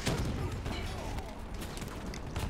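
Dense, continuous gunfire in Call of Duty: Black Ops 3 in a Singapore mission, loud rapid shots and booms blending into a constant roar with players' voices mixed in.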